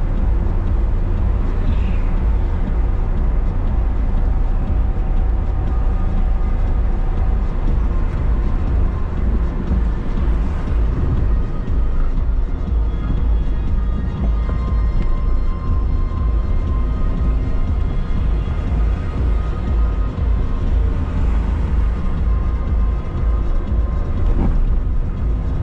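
A train rumbles steadily for the whole stretch, a heavy low drone with faint squeals and rattles mixed in, no voices over it.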